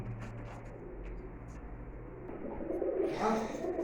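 Pigeons, including Bozak, Atlas and Gökela breeds, coo softly in an enclosed loft, their low throaty calls overlapping with faint rustling and a few brief chirps.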